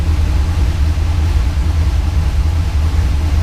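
A big block Pontiac engine with a solid roller cam idles at about 600 RPM in a Trans-Am, a loud, steady low rumble with a slightly uneven throb, close and continuous with no talking.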